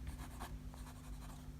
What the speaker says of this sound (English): we're just going to do a quick little writing sample in the back here